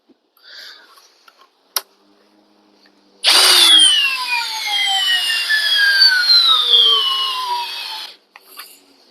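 A Milwaukee M12 2402 cordless drill set to speed 1 runs for a torque test, a loud steady whine that slowly drops in pitch for about five seconds after a few clicks, then cuts off.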